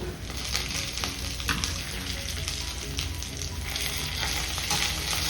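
Beetroot chutney ingredients, tamarind and curry leaves among them, frying to a deep red in a pan: a dense, constant close sizzle with occasional stirring scrapes, no voices.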